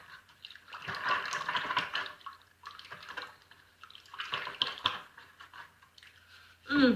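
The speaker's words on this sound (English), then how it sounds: "I'm going to use my whisk and just mix all of this together" Soap shavings and fragrance are whisked together in a bowl, giving close, scratchy, rapid stirring bursts separated by brief pauses, fairly quiet, ending with a louder knock.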